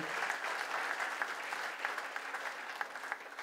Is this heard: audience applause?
yes